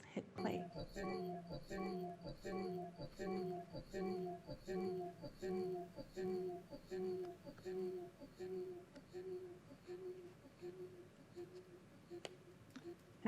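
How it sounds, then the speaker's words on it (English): A machine-learning generated music track with a regular pulsing rhythm of repeated tonal notes and high chirping accents, steady and moderately quiet, without speech. "it created some really interesting like chirping noises, which I really loved, and you hear it quite a lot in our track."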